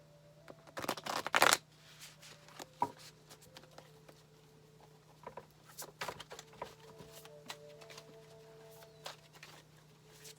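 Tarot cards shuffle and flip in a brief riffling burst near the start, followed by soft scattered card slaps and handling taps over a faint steady hum in a quiet room.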